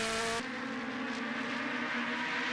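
Aussie Racing Cars on a race track, a car's engine whining at high pitch as it passes close, then a steady rasping drone from the pack, with no talking.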